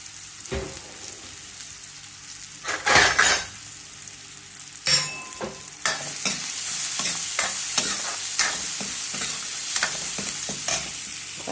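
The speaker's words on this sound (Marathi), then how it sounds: "कांदा 1-2 मिनटं चांगला भाजू द्यायचा." Chopped onion frying in a pan for an Indian egg masala gravy, a steady sizzle with repeated scraping stirs and a few louder spoon knocks against the pan, close and alone without talk.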